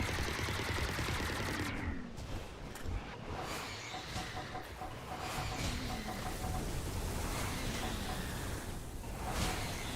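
Airstrike spell attack in Palworld, a dense run of rapid gunfire-like bursts and explosive crackle filling the whole stretch, loud and continuous with a faint tonal beeping mid-way.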